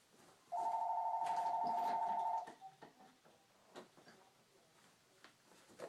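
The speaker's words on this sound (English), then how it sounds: "Oh, my phone's ringing." A mobile phone rings with a steady electronic tone for about two seconds, fairly loud and close, then stops, leaving quiet handling noises.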